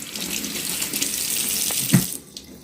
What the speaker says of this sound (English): let me rinse the sieve.